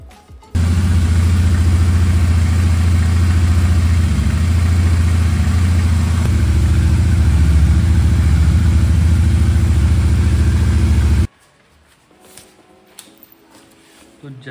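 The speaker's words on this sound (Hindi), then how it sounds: "अब मैं आपको बाइक स्टार्ट करके दिखा देता हूँ।" A Royal Enfield GT650 motorcycle starts and then idles loud and close for about ten seconds with a steady low rumble before cutting off abruptly, leaving quiet background.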